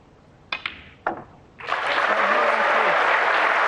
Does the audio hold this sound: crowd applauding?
yes